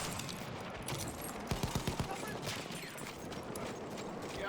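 A burst of rapid shots from an Automatico gun in a shooter game rattles in quick succession midway, surrounded by constant noisy game ambience and a voice speaking.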